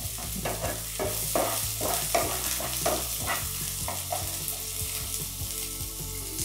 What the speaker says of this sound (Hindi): ये देखिए अब इसे मैं अच्छे से गोल्डन ब्राउन होने तक इसे फ्राई कर लेती हूँ